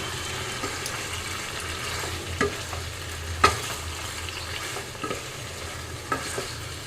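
Vegetable curry being stirred in a pan, spoon scraping and clinking in a steady rhythm over a continuous low frying sizzle, close and fairly quiet, with no one speaking.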